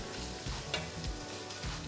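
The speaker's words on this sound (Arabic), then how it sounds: "اوكي عم لوحهم منيح، ما بريد البصله تقرش" Onions and garlic sauté in a pan, giving a close, steady sizzle with brief stirring scrapes throughout.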